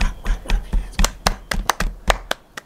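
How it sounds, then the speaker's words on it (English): Hands clap in a loose, uneven rhythm, about a dozen sharp claps over a few seconds, close and fairly loud, with brief voices between them. "Clap your hands."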